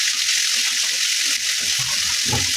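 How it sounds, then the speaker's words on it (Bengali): Snakehead fish frying in a pan gives a steady, close hiss of sizzling oil that runs unbroken throughout, with a few faint low clatters beneath it. "সেই শোল মাছটাই আর একটু ভাজি করে নিচ্ছি।"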